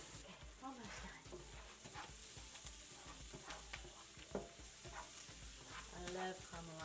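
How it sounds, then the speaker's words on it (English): Onions frying and caramelizing in a home kitchen pan, with a steady sizzle and repeated stirring scrapes throughout, plus occasional clatters of utensils against the pan. "I love caramelized onions."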